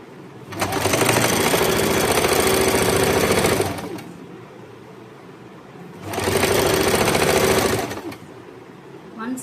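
A sewing machine stitches the crotch seam of a pair of shorts in two close bursts of rapid, steady whirring, each about three seconds long, separated by a short quiet pause.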